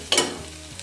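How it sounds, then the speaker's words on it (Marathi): Egg bhurji frying in a pan while a spoon stirs it, a short burst of scraping over a soft sizzle, close and brief. "चमच्याच्या साह्याने परतत राहायचं म्हणजे जेव्हा भुर्जी अशी व्यवस्थित परतली जाईल"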